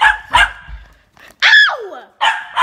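A dog barks during play, giving several sharp, loud barks and yips in short bursts separated by brief pauses, close by.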